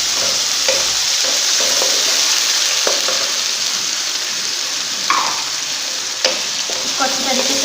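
Tomatoes frying with ginger-garlic and green chili paste among golden-browned onions for potato biryani, a loud, steady sizzle close up, punctuated by occasional spoon scrapes and taps as the mixture is stirred, with no talking.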